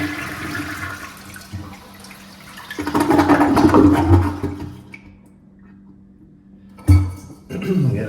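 A toilet flushes nearby with a rushing roar of water that swells and then drains away, followed by a brief clunk and gurgle.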